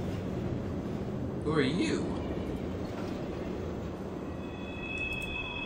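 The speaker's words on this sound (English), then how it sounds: "So we're on the monorail finally." A monorail ride in the video game Doom 3 gives a steady rumbling rail drone with a brief squeal, while a voice speaks over the travel noise.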